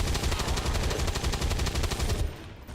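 Gunfire from the video game XCOM 2: War of the Chosen comes as a rapid, loud automatic burst of closely spaced shots that lasts about two seconds before cutting off.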